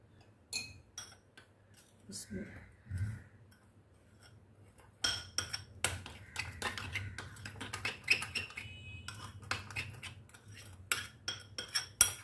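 A tablespoon stirs milk into cocoa powder for a chocolate glaze, with irregular metallic scraping and clinks against a bowl, sparse and quiet at first, then busier and steadier as mixing picks up, close by over a faint low hum.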